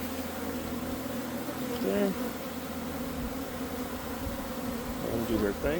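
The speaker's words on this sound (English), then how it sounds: "Gonna give the bees a few minutes to settle down." Honey bees buzzing around a hive box after a ground hive removal, a dense continuous drone with individual bees passing close by; a voice speaks briefly.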